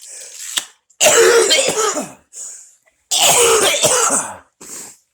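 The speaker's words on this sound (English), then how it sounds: "sorry about the coughing" Heavy, harsh coughing fits up close: two long raspy bursts with shorter coughs and throat-clearing between them, no talking.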